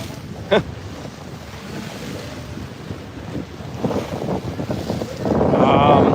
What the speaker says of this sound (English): The waves are really choppy and splashy today.